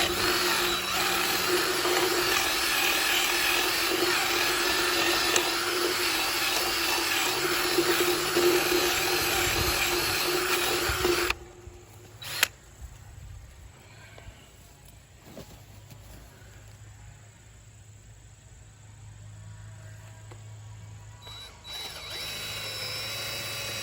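A power drill bores into a wooden fence post while gates are installed on a new fence. It runs loud and steady for about eleven seconds, then stops, leaving a quiet outdoor background with a single clunk.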